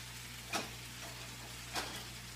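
Chicken thighs fry in hot oil with a soft, steady sizzle and hiss, broken by two brief sharper pops or clinks about a second apart, with no one talking.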